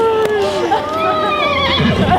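A horse lets out a loud, drawn-out whinny that rises and trembles, close by, with a soft thud of movement near its start and faint talk beneath.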